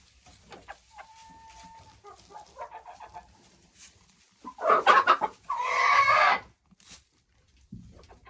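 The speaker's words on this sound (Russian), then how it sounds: "Так, это молодые куры." Young chickens in a farmyard cluck and cackle, with scattered soft calls early on, then two loud, close bursts of squawking in the middle before it falls quiet.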